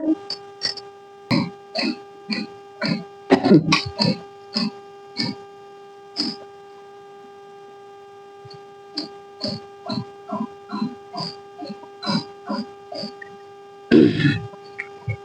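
Sewing machine stitching a kurti lining, running in short, regular bursts of close mechanical whirring over a constant electrical hum, with a few louder clunks between runs.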